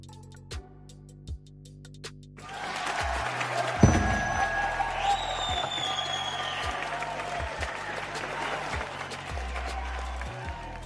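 An applause sound effect set off by voice command in a live-stream setup, a burst of crowd clapping that swells in after a few seconds and holds steady, loud and continuous.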